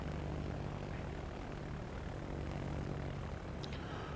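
Propeller-driven torpedo bombers drone steadily in the naval battle game World of Warships, a constant low engine rumble at moderate volume with a faint brief chirp near the end.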